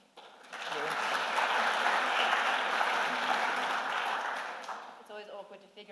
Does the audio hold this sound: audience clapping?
yes